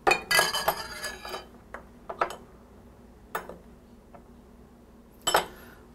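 Stainless steel whisk clattering in a bowl while mixing broth and flour, with a rapid cluster of metallic clinks at the start, then sparser sharp ticks and a final burst of clanking in a quiet kitchen.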